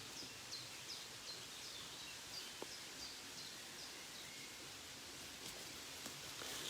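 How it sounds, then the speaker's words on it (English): A Scottish burn and nearby waterfall rush steadily outdoors, a broad, even hiss of flowing water with faint bird calls above it. "And now the burn sounds strong."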